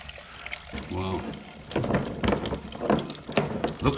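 White antifreeze coolant drains and splashes from a KTM 300 XCW motorcycle into a container, a close liquid pour with a short gurgle, and someone talks over it.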